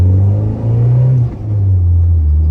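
A 1991 Volkswagen Corrado, custom and daily driven, pulls hard in first gear with a deep, loud, close engine drone that rises steadily in pitch and dips briefly at a shift, with no talk over it.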